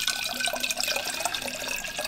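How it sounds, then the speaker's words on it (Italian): Cold water pours steadily into a clean bottle, filling it to 450 ml for a SodaStream soda maker, a close, continuous splashing rush heard alone. "prendiamo una bottiglia pulita, la andiamo a riempire come sempre con i nostri 450 ml di acqua"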